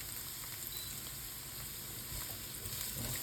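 Onion sautés in hot oil in a pan for a Filipino pork rib dish, a steady, even crackling sizzle heard up close and alone, with no pauses.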